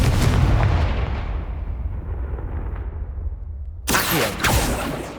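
Spell blasts from the video game Hogwarts Legacy: a deep booming burst that rumbles and fades, then a sharp crackling second blast near the end.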